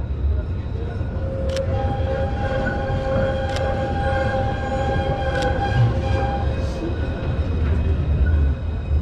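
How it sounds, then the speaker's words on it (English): Two trams pass along a city street at night, a steady loud rumble with brief metallic squeals and high whines from the rails, under a constant hum of street noise. "Hey bro, it's gonna be a double tram situation."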